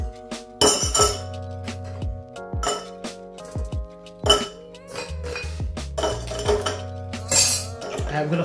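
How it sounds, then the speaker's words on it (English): Ice cubes clinking and rattling against a metal tin as a martini is stirred with gin, vermouth and absinthe, a loud, irregular run of close chinks and knocks with a brief spoken word in between. "And we're gonna stir the drink."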